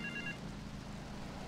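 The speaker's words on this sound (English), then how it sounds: "Can I answer this phone, please?" A phone rings in the game GTA Vice City: a short, bright electronic trill that lasts only a moment and fades quickly, set against a steady low background hum.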